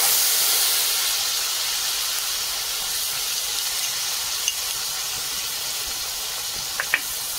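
Onion paste with whole spices, including dried chillies, bay leaf, cinnamon, cloves, peppercorns and cumin, sizzles in hot oil, a steady broad hiss that starts loud and eases slightly, with a couple of faint pops near the end.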